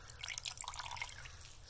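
Hair soaked in homemade rice water drips back into the liquid, a quick run of soft, close drips and splashes over a couple of seconds with no voices.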